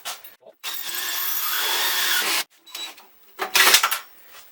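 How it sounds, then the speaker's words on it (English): A power drill with a hole saw cuts through the metal shell of a Paragon kiln, giving a close, loud grinding whine for about two seconds, then shorter bursts as the cut finishes. "I just go in here with the hole saw."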